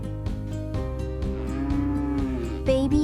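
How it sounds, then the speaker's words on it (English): A cow gives a long, deep, loud moo with a clear resonant tone that rises slightly near the end. "Sound they make is moo."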